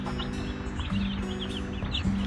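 Baby chicks chirp busily in a brooder, a close cluster of high, rapid peeps repeating throughout, with a low clucking note from a larger bird underneath.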